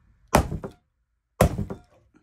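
Two heavy thunks of a big saw knife striking a coconut, about a second apart, each sharp impact with a short rattling tail, close and loud in an otherwise quiet space.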